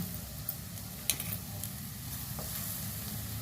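Rice for carrot rice is tipped into a pan and stirred, giving a soft, low sizzle with light scraping and a few small ticks, fairly quiet throughout.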